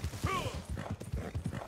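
Horse hooves in Red Dead Redemption 2 Online clip-clop in a steady trotting rhythm, close by, with faint snorting and a short whinny-like tone near the start.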